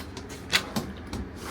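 Drawer in a Class B+ motorhome kitchen opened and closed, giving a few soft knocks and clicks spread over a second and a half, close and fairly quiet, with no talking.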